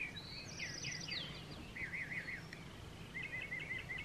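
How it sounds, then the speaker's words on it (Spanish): Small birds chirp and trill in the morning at a rural ranch in San Luis Potosí, with faint high twittering phrases repeating over quiet background hum, no voices present. "Lo que te despiertan son"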